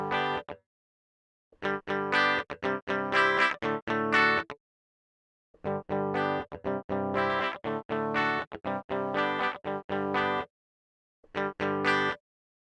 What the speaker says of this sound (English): shaping the sound of that guitar, which right now is a Telecaster